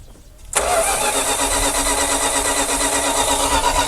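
An abandoned classic Dodge Power Wagon's engine turns over, a steady, loud starter crank kicking in abruptly after a brief quiet moment and continuing without a break.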